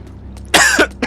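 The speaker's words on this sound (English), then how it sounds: "Damn it, you're making me cough." A single loud cough, with a second shorter cough right after it, heard alone in a quiet scene from the PC game Tales of Berseria.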